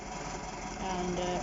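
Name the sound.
Perkins-engined shunting locomotive 'Tractor' engine running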